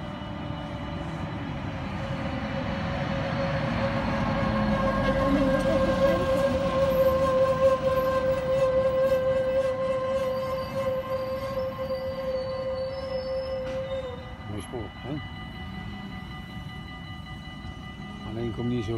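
A train rumbles past a railway level crossing at Holten. The rumble swells to a loud peak, then eases off over the following seconds, with sustained tonal hums running through it and people talking nearby.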